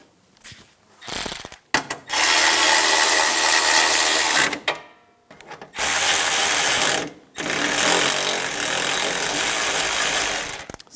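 Ratchet wrench tightening bracket bolts during an AC condenser replacement on a 2004-2009 Toyota Prius: loud, close, rapid clicking runs in three sustained bursts separated by brief pauses.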